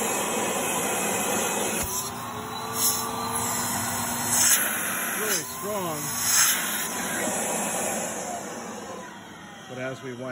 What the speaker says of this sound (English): As we wind down, we've got a little bit of bearing noise